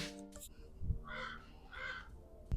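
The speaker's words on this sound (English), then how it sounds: "That's a loud crow." Two loud, harsh caws from a crow ring out close by, spaced about half a second apart over quiet background noise.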